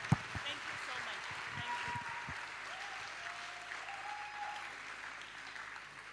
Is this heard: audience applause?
yes